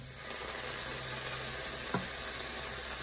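Peas tipped into a hot pan of fried rice set off a steady, broad sizzling hiss with one brief clink partway through, close and even, no talking.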